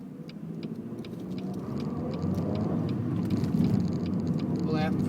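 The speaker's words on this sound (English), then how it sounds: "Lots of traffic." Busy road traffic near a roundabout by a shopping centre in Felixstowe, a steady engine rumble that grows louder as vehicles pass close, heard from inside a car with faint ticking.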